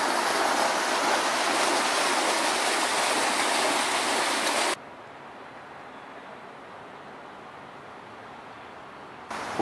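The Dolphins fountain in Rhapsody Plaza, downtown Kelowna, gives a loud, steady rush of splashing water that suddenly drops to a much softer wash about halfway through.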